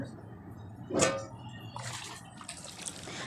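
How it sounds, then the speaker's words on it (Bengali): Water splashes once over an eggplant being rinsed, followed by softer trickles and drips against faint background noise. "এই যে বেগুনটাকে আমি এখন ভালো করে জল দিয়ে ধুয়ে নিচ্ছি"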